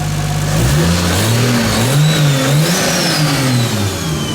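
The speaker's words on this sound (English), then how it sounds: "the turbo sounds on this thing is like insane" A turbocharged 2JZ engine in a Nissan S14 revs hard, pitch rising and falling in waves with a faint high turbo whistle overhead, loud and close with no talking.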